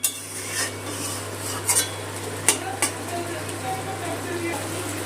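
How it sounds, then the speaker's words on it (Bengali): Mourala fish curry with potatoes and water being stirred in a pot, a few sharp spoon knocks and scrapes over a low simmering bubble and steady hum, close and fairly quiet. "সব কিছু আবারও ভালো করে মিশিয়ে নিলাম জলের সাথে"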